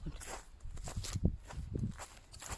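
Footsteps crunch across snowy ground outdoors, several soft, uneven steps close by, with a few stronger thuds.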